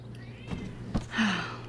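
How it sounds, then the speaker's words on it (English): A cat meows in the video game Life is Strange, a few short close mews, the last one a drawn-out rising cry, heard over a faint steady hum. "Meow, meow, meow."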